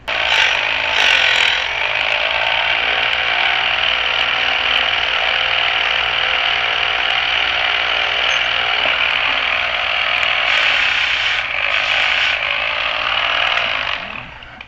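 A router runs steadily while rekeying house locks, a loud continuous mechanical whine held for about fourteen seconds, with brief changes in pitch near the start and end.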